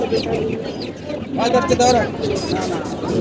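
Chickens clucking at a busy pigeon and poultry market in Tongi, Bangladesh, short bursts of clucks and squawks nearby under people's bargaining chatter.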